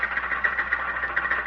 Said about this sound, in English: Do I hear what I think I hear? Yes, Harold. That's Mr. Walker in his tractor.